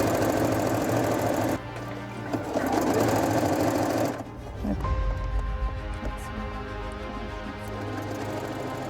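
A sewing machine stitches a tote bag in loud rapid bursts, pausing briefly between runs of stitching, close and alone.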